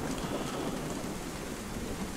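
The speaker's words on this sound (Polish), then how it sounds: "I chciałem przeczekać tą burzę w chatce." A steady downpour of rain with a thunderstorm outside a cabin in a survival video game: dense, continuous hiss and low rumble throughout, with no speech.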